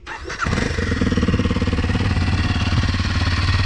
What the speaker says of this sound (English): So this is what the bike sounds like.